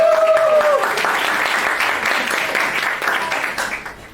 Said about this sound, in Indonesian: Boleh tepuk tangan teman-teman.